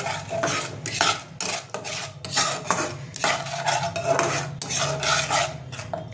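Spice paste for a Bengali katla fish curry being sautéed in a pan, with irregular scraping and stirring strokes of a utensil against metal, close and fairly loud, accompanied by a soft background sizzle.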